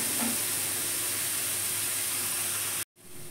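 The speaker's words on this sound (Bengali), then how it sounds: "পেঁয়াজটা আমার ভাজা হয়ে গেছে" Small chopped onions with salt frying in oil in a pan, a steady close sizzle that breaks off briefly near the end.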